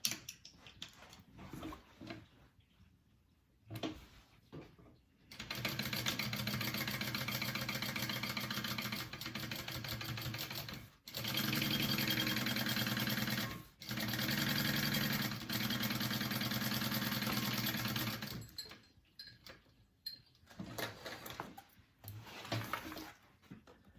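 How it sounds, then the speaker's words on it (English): A sewing machine stitches a half-inch seam allowance on a PacSac bag, its motor whirring steadily in several long runs separated by brief pauses, with quieter handling sounds before and after. "I'm going to sew it at a 1/2 inch seam allowance"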